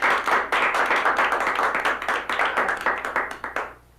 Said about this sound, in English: I don't know if you guys should applaud at that part